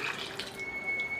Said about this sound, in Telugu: దీంట్లో ఈ చింతపండు వాటర్ పోసారండి